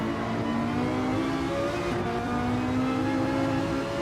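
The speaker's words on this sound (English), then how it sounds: "Oh, but that Ferrari at full noise." Ferrari race car engine held at full throttle on the Daytona road course in a racing video game, a loud, steady high-pitched roar with sustained harmonic whine running unbroken throughout.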